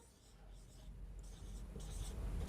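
Faint scratchy strokes of writing on a board during a maths lesson, soft and close, with quiet rubbing textures and a low background hum.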